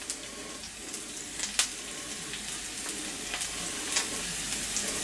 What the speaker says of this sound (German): Ich muss mal kurz meinen Spargel hier ein bisschen durchschütteln